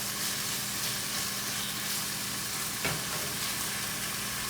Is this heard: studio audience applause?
no